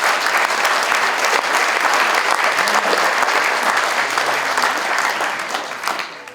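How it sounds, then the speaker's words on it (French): An audience applauds at a town hall New Year ceremony, a dense, loud, sustained clapping that carries on evenly before thinning and fading toward the end. "vous pouvez applaudir"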